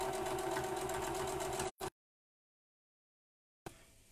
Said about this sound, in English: Not that I'm top stitching this perfectly anyway.